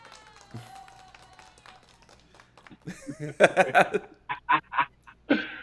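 During a live vegan chat stream, a few sharp, close hand claps come in uneven bursts after quieter talk, mixed with light laughter.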